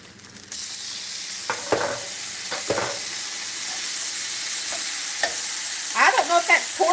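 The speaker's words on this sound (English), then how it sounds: "Now we're going to make some gravy in the same skillet." Gravy started in a skillet with leftover pork fat from country fried steak, a loud hissing sizzle after a quiet start, with a spoon scraping and stirring the pan several times.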